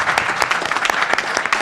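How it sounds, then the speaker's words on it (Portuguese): Applause at a carnival press conference: a modest group claps, with distinct individual claps audible as sharp bursts in an uneven, lively patter. "Um forte aplauso para a Panaya"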